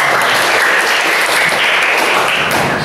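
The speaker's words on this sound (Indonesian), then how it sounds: "Oke, tepuk tangan." A class of schoolchildren claps steadily and loudly throughout, a dense wash of many hands with no pauses.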